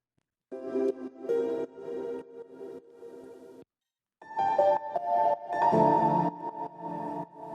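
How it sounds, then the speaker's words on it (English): Sampled Kontakt piano chords ring out with heavy reverb, two sustained phrases separated by a short silence, soft and washy in tone. "this is just a basic piano from Contact, I think, with a bunch of reverb"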